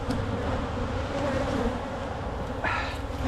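Honey bees buzzing densely around a freshly split hive, a loud, close, continuous drone of many insects with no voices.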